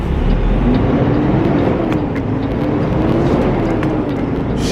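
Steady, loud car engine drone from inside the cabin while driving and shifting gears, with the engine pitch sliding slowly up and down.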